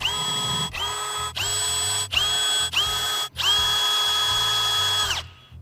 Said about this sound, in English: use our 5/16 bit to drill the holes.